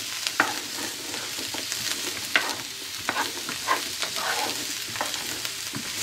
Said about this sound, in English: now you're gonna want to stir up all your veggies inside the pan